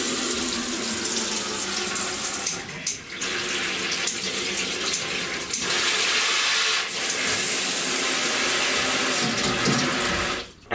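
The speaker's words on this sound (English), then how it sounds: "Okay, I'm gonna test the shower head. So let it flow again." Water streams steadily from a shower head in a tiny house, a continuous loud hissing spray with a few brief dips in flow, and no talking over it.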